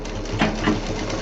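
A sewing machine stitching the belt of a stylish handbag with a half-inch margin near wooden beads: a short, continuous mechanical whir with a low hum, close and fairly loud, with no talking.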